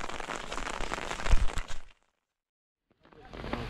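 Heavy rain patter at Old George Dam that cuts out abruptly into near silence for about a second, then returns more softly.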